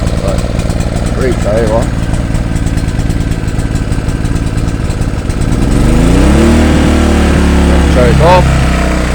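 Ozito 2000W petrol generator running a little rough, a steady loud mid-pitched engine drone that shifts to a lower, heavier hum partway through, with a person talking over it.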